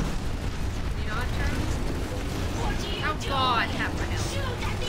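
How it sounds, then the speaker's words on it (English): Planetside 2 battle in which a Sunderer vehicle is blown up, a rumbling blast amid constant game noise and gunfire, with voices talking excitedly over it. "The Sunderer. I'm gonna blow him up."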